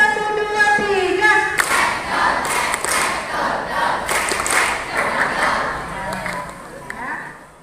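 A group of junior high school students in Indonesia clap in a rhythmic one-two-three pattern, a dense crowd of claps answering a shouted cue, with voices mixed through the burst.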